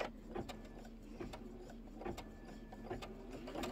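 A sewing machine quilts a Kimberbell Spring Showers quilt, giving off a faint, even mechanical hum with quick rhythmic ticks of the needle.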